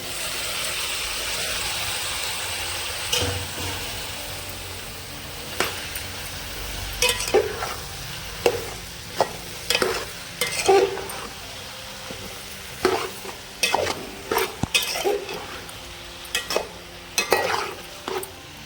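Bottle gourd and potato curry with curry leaves cooks in a pan, a soft steady sizzle broken by repeated sharp scrapes and clinks of a spoon stirring, the strokes coming faster in the second half.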